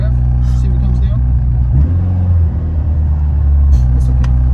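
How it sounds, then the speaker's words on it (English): Loud, close engine of a Mitsubishi Evo or Subaru STI idling roughly and revved in short bursts, with a deep low rumble throughout while people talk over it during a vacuum leak check. "Give it a little rev."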